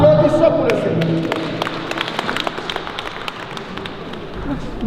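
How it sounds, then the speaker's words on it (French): A church congregation breaks into rapid, patter-like clapping that starts loud and tapers off, with voices running beneath it. "Applaudissons pour le Seigneur."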